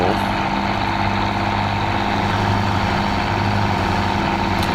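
A farm tractor engine idles steadily at close range, a constant low rumble with a droning hum that never changes over several seconds, with no other sounds.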